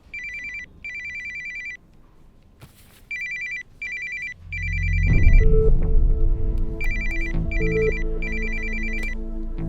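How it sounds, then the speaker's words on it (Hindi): A phone ringtone chimes in repeated bursts of electronic tones, then rhythmic music with a heavy bass beat starts partway through and plays loudly beneath the continuing rings. "फोन बज रहा है"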